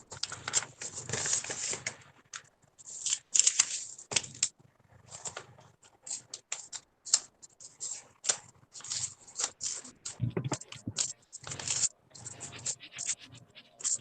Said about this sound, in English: These are the Dollarama scissors.